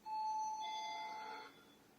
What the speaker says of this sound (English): one moment, the doorbell rings